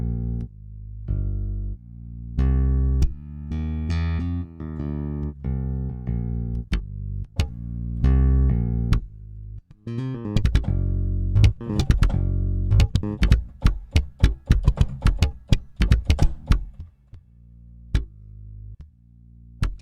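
Virtual bass guitar from the Ample Bass P Lite II VST plugin, played with fade-in swells: sustained low notes rising softly, then a run of sharper plucked notes in quicker rhythm, with no talking.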